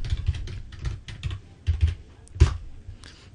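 Username and password being typed on a computer keyboard, a quick irregular run of close, crisp key clicks with brief pauses and one louder keystroke near the end, no voices.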